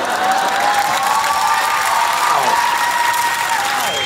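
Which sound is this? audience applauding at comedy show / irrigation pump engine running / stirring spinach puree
audience applauding at comedy show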